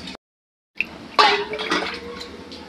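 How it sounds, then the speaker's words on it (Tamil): Water splashes and pours steadily into a cooking pot after a brief silence, with a bright, trickling liquid sound close by. "இப்போ நம்ம வந்து நார்மலாக தண்ணி ஊற்றிக்கலாம்"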